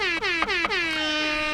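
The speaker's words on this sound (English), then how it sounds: "Hit him with the air horns" An air horn sound effect blasts three quick short honks and then one longer held blare, loud and close, with no talk.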